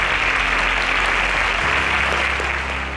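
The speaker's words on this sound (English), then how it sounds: "A round of applause for her." A studio audience applauds a quiz show contestant in a semi-final round, a steady, dense wash of clapping that stays loud throughout and eases slightly at the end.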